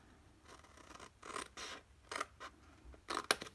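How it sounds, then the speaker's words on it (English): Scissors snip through craft card for a flip-top gift box, several short crisp cuts in uneven bursts, close and quiet with no talking. "I'm going to continue cutting all the way"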